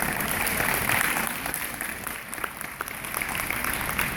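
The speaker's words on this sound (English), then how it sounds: "Give him a round of applause." An audience applauds at a lion dance welcome event, a dense sustained clapping from a crowd that stays steady and fairly close throughout.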